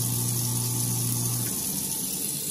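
A kitchen garbage disposal under a sink runs again after being unjammed, giving a steady whirring hum with a watery rushing wash; the low motor drone cuts off partway while the water keeps flowing.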